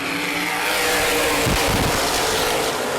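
Winged Hoosier Outlaw Super Sprint Cars accelerate off the start at Baer Field Speedway, a dirt oval: a loud, dense engine roar from a pack of racers, swelling as they pass close by.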